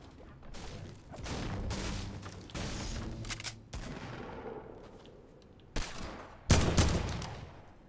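Shotgun gunfire in the Fortnite video game, a run of loud repeated blasts with clattering action and game effects between them, ending in a sharp close shot.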